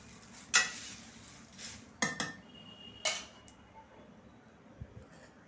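Fried corn chivda tossed with spices in a large kadhai, heard as a few sharp metallic scrapes and clinks of a spoon against the pan, spaced apart with quiet stretches between.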